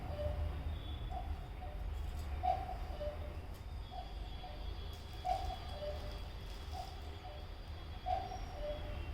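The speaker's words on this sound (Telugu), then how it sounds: "సౌండ్ వినిపిస్తుంది మా వాల్ క్లాక్ నుంచి." A bird chime from a wall clock striking twelve, a faint repeated chirping coo at steady intervals, quiet and somewhat distant over a low room hum.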